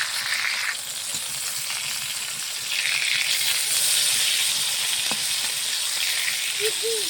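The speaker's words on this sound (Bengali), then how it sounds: "বেগুনের ভাজাটা উল্টে দিই।" Flipped eggplant slices fry in a pan with a loud, continuous close sizzle, broken by a single sharp tap near the end.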